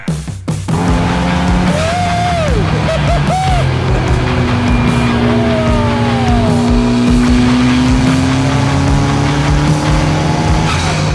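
An Ariel Atom 4 engine roars as it accelerates hard, its rising pitch climbing steadily through the gears, loud and close with some tire squeal.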